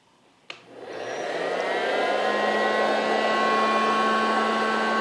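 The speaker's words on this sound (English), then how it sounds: "I'm gonna turn this on and get my popcorn popped" A hot-air popcorn popper clicks on and whirs up to a steady, close, fan-like blowing hum that grows louder over the first second and then holds constant.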